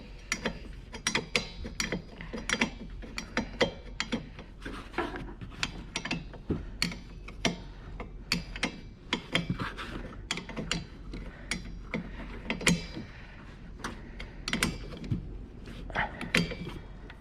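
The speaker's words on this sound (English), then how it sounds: "I should use the ratchet." A ratchet clicks rapidly and repeatedly while tightening strut bolts on a 2007 Toyota Sienna front suspension, with close, crisp pawl ticks in uneven bursts over a low background hum.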